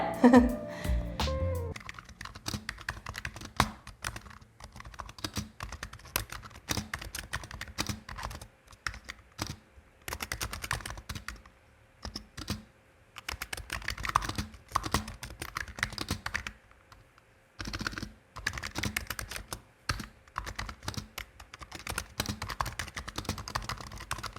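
Fast typing on a Razer Huntsman Mini compact keyboard, a dense run of crisp key clicks and clacks with short pauses between bursts, close and clear throughout.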